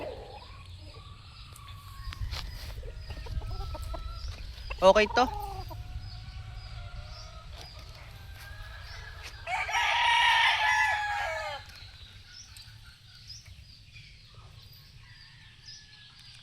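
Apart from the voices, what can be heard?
gamefowl rooster crowing and clucking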